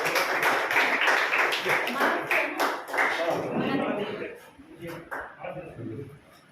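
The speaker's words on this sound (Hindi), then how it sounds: "बिल्कुल, तालियां बजनी चाहिए।" An audience claps at a school classroom inauguration ceremony, a burst of applause that fades out over a few seconds.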